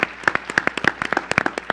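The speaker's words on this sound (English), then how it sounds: "Give them a round of applause." Applause from a seated audience at the close of a women's commission session, a dense patter of many hands clapping with sharp irregular peaks, fairly near and steady throughout.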